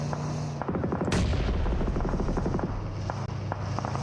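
Gunfire in PUBG Mobile during a World Cup grand finals esports match: a sudden loud blast followed by a run of rapid, clustered shots over a constant engine-like drone, then sparser distant pops.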